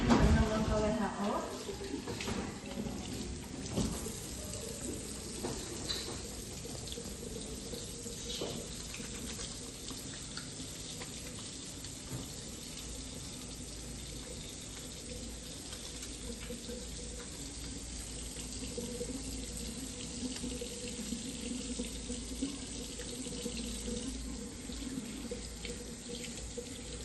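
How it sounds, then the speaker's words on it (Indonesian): Tap water runs steadily into a sink during clinical hand washing before a pediatric reflex examination, a continuous close hiss that stays even throughout, with faint talk underneath. "Selanjutnya cuci tangan dengan langkah WHO."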